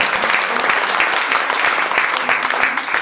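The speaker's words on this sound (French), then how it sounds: "Acclamons pour le Seigneur." A church congregation claps and applauds together during a worship service, a dense, steady patter of many hands that continues throughout with voices mixed in.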